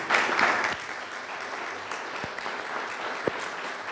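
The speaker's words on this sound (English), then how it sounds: "I would just appreciate another round of applause for the panelists." Audience applause for the panelists at a panel discussion on decolonising the arts and culture, a steady, dense wash of many hands clapping filling the room, with a few sharper claps standing out.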